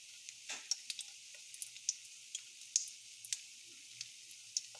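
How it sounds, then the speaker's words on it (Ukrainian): Lavash crisping in a frying pan with cheese inside, a quiet steady sizzle broken by scattered sharp pops and crackles spaced irregularly through the clip. "Ось я посмажила лаваш до рум'яної скоринки."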